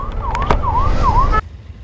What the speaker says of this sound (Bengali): এদিকে অ্যাম্বুলেন্স দাঁড়িয়ে গেছে।